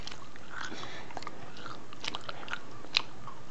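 Someone chews a bacon-flavored jelly bean, giving soft, irregular close-up mouth clicks and sticky chewing sounds with a sharper bite near the end, no speech.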